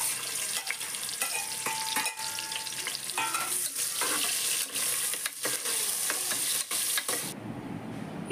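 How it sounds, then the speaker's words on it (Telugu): Sliced large onion frying in ghee and oil for egg biryani, a close, steady sizzle with stirring clatter and spoon scrapes that stops abruptly near the end. "ఒక పెద్ద సైజు ఉల్లిపాయని చీలికల కింద కట్ చేసుకొని వేసుకొని ఫ్రై చేసుకోవాలి"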